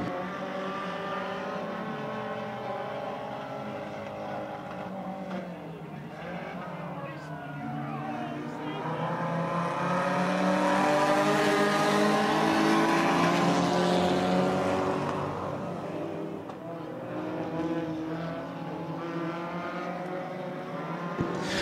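Race cars circling Winston Speedway on the back straightaway into turn 3, a steady droning pack of engines that swells louder as they pass closer, then eases, with an announcer calling the race over the top.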